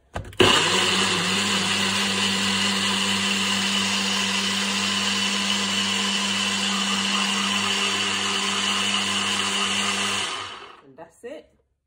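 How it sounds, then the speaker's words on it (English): A Nutribullet blender blending watermelon and mango smoothie roars steadily at high speed for about ten seconds, loud and whining, then winds down and stops. "Go into my Nutribullet. And I'm going to blend."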